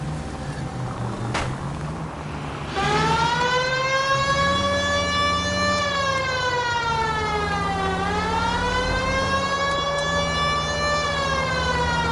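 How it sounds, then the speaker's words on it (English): A police car siren wails in the L.A. Noire video game, steady and prominent, its pitch rising and falling in slow sweeps over a low engine drone. "Put the siren on!"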